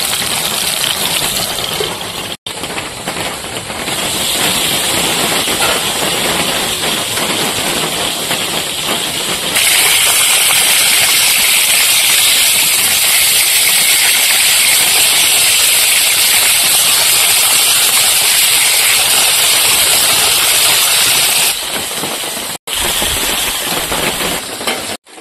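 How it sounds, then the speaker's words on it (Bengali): Paturi frying in a covered pan, turned to cook both sides, gives a loud, steady close sizzle and hiss that runs unbroken for the whole stretch, with no talking. "ঢাকা দিয়ে এপিট ওপিট ভেজে নেবো।"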